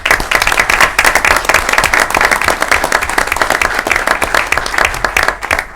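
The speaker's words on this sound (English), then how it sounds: "So we owe you another big round of applause." A school district board meeting audience gives a loud, sustained round of applause, with dense continuous clapping filling the room from start to finish.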